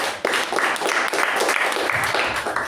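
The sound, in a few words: audience applause for speaker and evaluator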